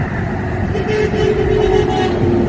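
Truck horn honks on a West Virginia highway roadside, a sustained toot riding over loud, close traffic and engine rumble with no pauses.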